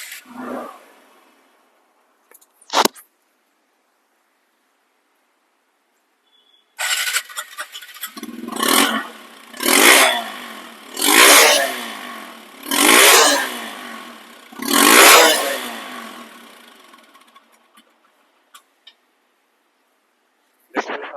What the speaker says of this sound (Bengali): বাইকটি সাউন্ড কোয়ালিটি শুনুন